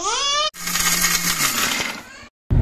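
A kitchen mixer grinds makhana, cashews, almonds and milk powder into a fine powder, a loud dense whirring roar that runs steadily, cuts off briefly, then resumes with a sharp restart.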